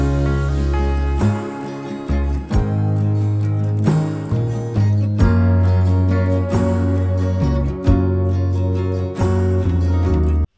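Electric guitar played through Amplitude 5 with shimmer reverb and chorus at a low mix, strumming steady chords in a pop verse, loud and full with no voices.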